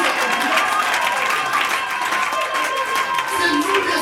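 A church congregation applauds steadily through the whole clip, dense and continuous clapping from a crowd, with voices mixed underneath.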